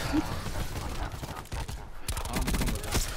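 Pistol gunfire in the shooter game Call of Duty Black Ops 4, a rapid burst of sharp cracks amid busy game noise, with a dense flurry near the end.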